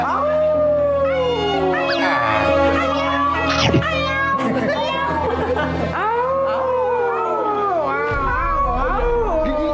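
Several people mimic wolves howling at a lunar eclipse, their voices rising and falling in long, wavering howls that overlap loudly and close, with brief laughter and chatter mixed in.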